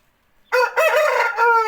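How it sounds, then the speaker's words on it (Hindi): An Aseel breeding rooster crows once at close range, a loud, hoarse, drawn-out call rising after a short quiet start, heard alone. "अब देख लीजिए, मुर्गा डाक रहा है तो इसका साउंड क्वालिटी कैसे आ रहा है"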